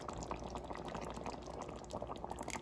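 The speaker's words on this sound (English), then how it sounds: "Add the sauce in, give it a stir, and then give it a taste." Tomato sauce pours into a pot in a continuous thick, bubbling liquid stream, close and steady throughout.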